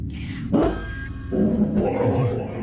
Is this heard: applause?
no